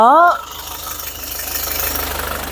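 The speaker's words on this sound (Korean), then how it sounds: "마지막으로 엔진 사운드 확인해 드릴게요" A SsangYong Rexton Sports pickup with about 20,000 km idles with the hood open, a quiet, low, even rumble and faint rhythmic ticking, after a brief voice at the start.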